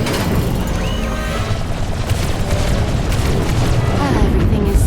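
Vessel being destroyed in Star Wars: The Old Republic, a dense, continuous rumbling blast with crashing debris and booming low end, loud and sustained throughout.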